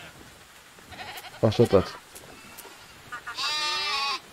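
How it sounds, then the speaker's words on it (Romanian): Sheep bleating while being sheared in Medieval Dynasty, a single drawn-out bleat near the end following a short burst of clattering, with someone speaking faintly nearby. "Stați un pic să tundem oile, ca lumea."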